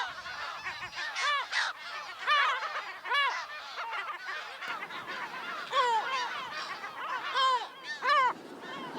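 Colony of Audouin's gulls on islets off Menorca, calling continuously with overlapping laughing, honking cries, some near and loud, others farther back, in a busy, unbroken chorus.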